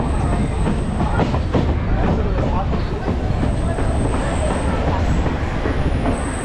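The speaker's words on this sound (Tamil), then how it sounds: "பெரம்பூருக்கு அடுத்ததா இந்த ட்ரெயின் நின்னது பார்த்தீங்கன்னா வில்லிவாக்கம்." A MEMU local train on the Chennai Central–Tiruttani line pulls into Villivakkam station, with steady wheel clatter and rumble, a brief squeal and a high whine, loud and continuous throughout.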